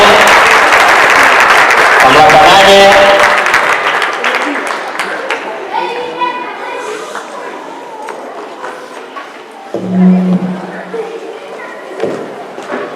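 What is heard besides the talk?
audience applause at an award ceremony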